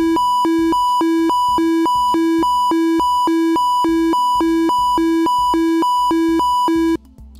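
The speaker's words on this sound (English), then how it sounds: "What about klaxon?" Klaxon effect from an MS QuickBasic demo program on MS-DOS: a loud, steady two-tone electronic beep alternating rapidly between a low and high pitch, repeating evenly for about seven seconds before cutting off.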